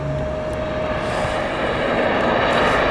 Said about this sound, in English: Southwest Flight 943 inbound from Orlando.